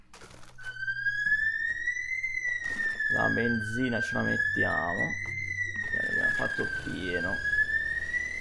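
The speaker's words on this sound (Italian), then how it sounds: "Mi scuso se sentite questo rumore, ma viene da fuori, è un allarme," An alarm siren sounds from outside, a steady rising and falling electronic wail that runs through the whole stretch while someone talks over it indoors.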